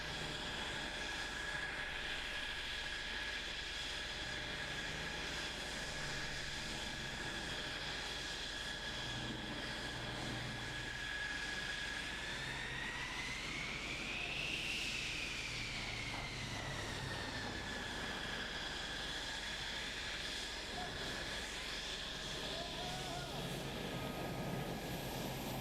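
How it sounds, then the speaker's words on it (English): A single F-16 jet engine roars on afterburner, a thick continuous rumble with a high whine that swells and falls back around the middle of the sustained run. "It's so crazy that a single engine like this can be as loud and thunderous as this, but it is loud, especially when it's an afterburner."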